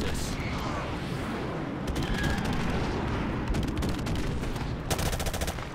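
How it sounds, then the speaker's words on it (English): Airstrike explosions and gunfire in Call of Duty Modern Warfare Remastered during a Team Deathmatch on Crossfire, dense continuous rumbling blasts with sharp rapid shot bursts layered on top, loud throughout. "Friendly airstrike on the way"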